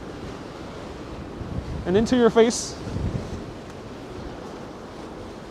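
Strong wind gusts across a waterfront park pier in Manhattan, buffeting the microphone in a constant roar with water faintly behind, while someone speaks briefly partway through.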